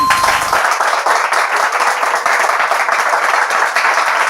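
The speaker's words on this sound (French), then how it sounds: "On l'applaudit." A small group claps during a French-language Bible quiz, a lively patter of hands that starts abruptly after a brief tone and continues at a steady, close level without speech.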